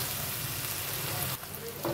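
Chow mein masala with ground fried spices and garam masala sizzles steadily in a pan while being stirred, a soft continuous frying crackle with a brief scrape near the end.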